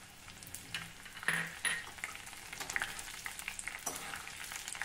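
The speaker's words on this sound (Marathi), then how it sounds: "आता हा लसूण आणि मिरची आपण या तेलामध्ये जरा तळून घेऊ।" Finely chopped garlic cloves and red chili, with cumin, fry in hot oil, giving a steady close sizzle and crackle broken by a few sharper clatters as the pan is stirred.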